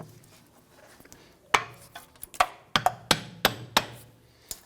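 Hammer blows on a metal punch set against the center of a front CV axle on a 2017-2020 Hyundai Elantra 2.0L, about eight sharp metallic strikes in an uneven series after a quiet start, close and clear with no talk.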